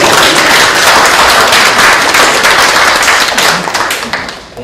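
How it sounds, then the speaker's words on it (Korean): Audience at a Democratic party livelihood tour stop in Seongnam city giving the party leader a round of applause, loud dense clapping that holds steady and then tapers off near the end. "이럴 때 우리 대표님 박수 한번 주십시오"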